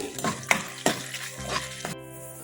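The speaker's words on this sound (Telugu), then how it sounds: "పోపు బాగా వేగిందండి." Oil sizzles steadily while a spoon strikes and scrapes the pan in several quick, rhythmic strokes as mustard seeds, chillies and curry leaves fry, then the sizzle cuts off abruptly.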